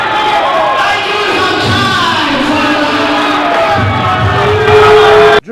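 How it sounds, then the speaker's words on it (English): A wrestling crowd at a small live event roars and shouts continuously, loud and dense, with whoops and yells rising together throughout. "Listen to this crowd. They want it."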